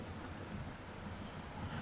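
Steady rain with a low rolling rumble of thunder underneath from the Repeat video game, a quiet continuous wash of falling drops with no voices.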